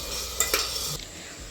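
Onions and tomatoes fry in a pan with a steady close sizzle, as a utensil scrapes and clinks through them a couple of times while they are stirred.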